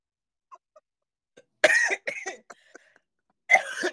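Someone coughs nearby in a quiet room, a sharp burst followed by a few shorter hacking coughs, a brief pause, then one more loud cough.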